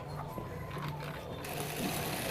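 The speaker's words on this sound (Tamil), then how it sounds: "இப்போ வந்து லைனிங் கிளாத்தை மட்டும் நம்ம திருப்பி லைட்டாக ப்ரெஸ் பண்ணிவிட்டு டாப் ஸ்டிச் வந்து போட்டுட்ருக்கோம்" A sewing machine runs steadily while top-stitching the lining of a blouse sleeve, giving a close, continuous mechanical whir and clatter with slight shifts in pitch and no speech.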